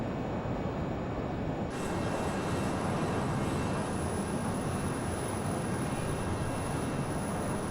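Steady, loud jet roar of a Learjet in Microsoft Flight Simulator 2020, a dense continuous rush with a thin high whine that broadens and brightens after the first couple of seconds, with no voices.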